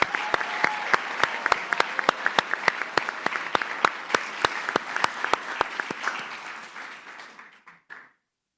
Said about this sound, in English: please join me in a round of applause for the hard work of these brilliant young ladies today